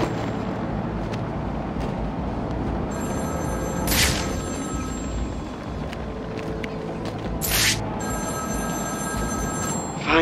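A telephone rings in the video game Batman Arkham City, its shrill ringing bursts sounding twice amid heavy rumbling game ambience, fairly loud and repeating several seconds apart.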